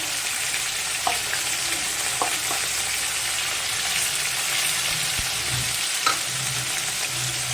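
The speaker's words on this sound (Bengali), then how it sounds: "এক এক করে মাছগুলো আমি কড়াইতে দিয়ে দেবো।" Bhola fish frying in oil in a kadai, a steady close sizzle with occasional stirring clinks and spatters throughout, no talk.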